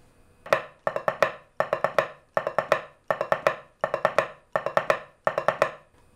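Military snare drum pattern in groups of six where the first half of each group becomes a single longer note, giving an accented hit followed by three quick strokes; repeated cleanly and closely, bright and evenly spaced, with no talking.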